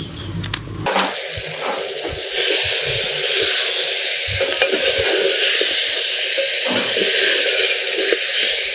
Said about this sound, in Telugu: ఇప్పుడు మనము దీన్ని బాగా కలబెట్టుకుంటున్నాం. ముక్కలు నూనెలో బాగా మగ్గాలయా.